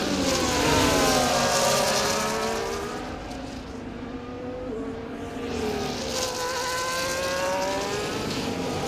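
An F1 car's engine at full acceleration through the wide lefts at Spa-Francorchamps in F1 24, a loud, high-pitched whine sweeping upward through gear changes, then easing and building again, heard alone.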